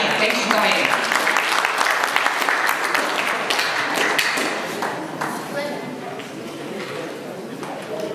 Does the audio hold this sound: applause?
yes